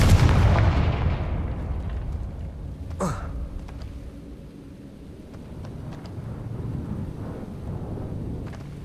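A Confringo spell explosion from the Hogwarts Legacy video game bursts as a loud, deep boom at the start, its rumble fading over several seconds, with a sharp crack and scattered smaller thuds following.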